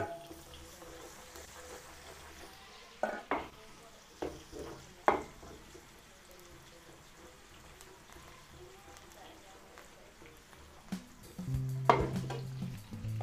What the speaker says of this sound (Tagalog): Tayo magigisa ng bawang.